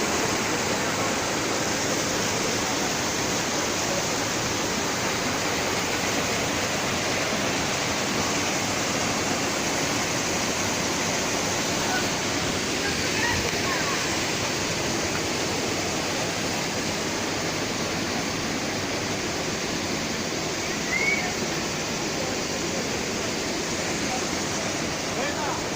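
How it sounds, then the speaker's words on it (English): Agia Kori waterfall at Vrontou Pierias on Mount Olympus, a loud, unbroken roar of falling water that stays dense and even the whole time, with people speaking over it. "And let's see the waterfall here."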